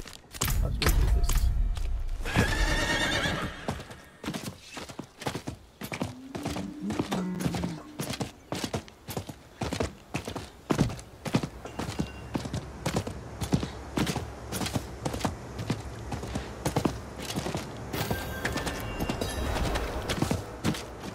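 A horse in the video game Diablo IV whinnies near the start, followed by a long run of rhythmic hoofbeats clopping steadily at a trot, loud and close with creaking sounds.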